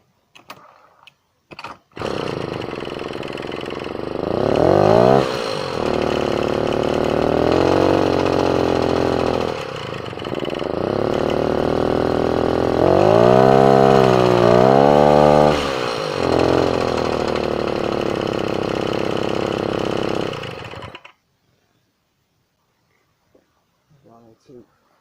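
Small Tomos moped engine revving repeatedly and idling up close, with rising and falling throttle blips over a steady buzzing idle before cutting off near the end.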